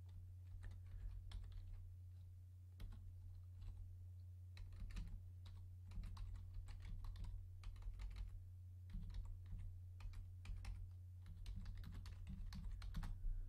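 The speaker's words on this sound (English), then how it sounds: "hopefully my typing will be better as we go" Keys clatter on a computer keyboard in quick irregular bursts of clicks with short pauses, close and quiet over a low steady electrical hum.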